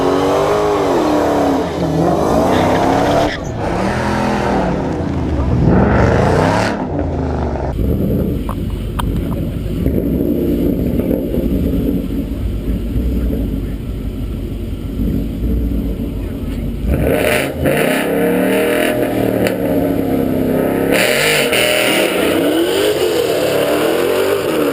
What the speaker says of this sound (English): SRT Dodge Challenger, 2015 Mustang, head to head,